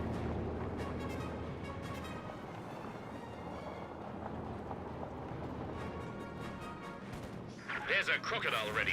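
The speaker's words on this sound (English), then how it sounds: "smoke barrage there from the pyrotechnic squad" Artillery lays down a smoke barrage in Company of Heroes 2, a rolling, rumbling stream of distant booms under a voice talking, with a sharper burst of impacts near the end.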